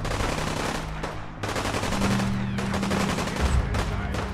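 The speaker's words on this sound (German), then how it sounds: "Der Schusslärm nimmt zu." Rapid bursts of gunfire in the video game Fallout 4, dense automatic shots close by, with a brief lull before the shooting resumes, and no one speaks.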